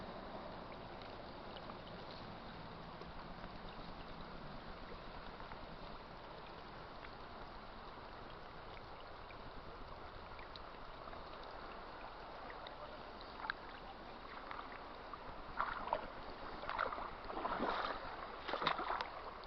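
Heavy rain pours steadily outdoors, a faint, dense hiss of water that grows a little louder with splashier patter toward the end.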